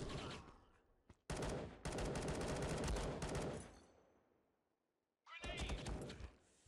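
Rapid automatic gunfire from the mobile online PvP shooter Modern Ops rattles in close, loud bursts, dies away into a fading tail and near silence, then a fresh burst starts up.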